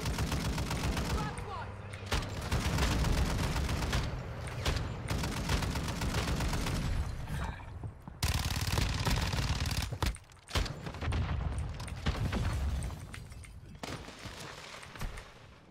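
Dense gunfire in the online battle-royale shooter Call of Duty: Warzone, rapid bursts and automatic volleys crackling close and loud nearly throughout, with brief gaps and a player's voice calling out over the fighting.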